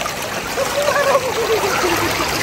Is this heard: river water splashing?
yes